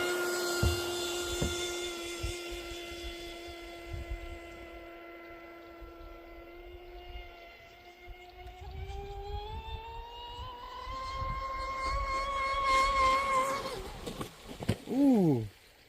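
A Proboat Impulse 32 RC boat with a Tenshock motor whines steadily on the water, its pitch holding level and then climbing sharply as the throttle opens, ending in a brief falling swoop.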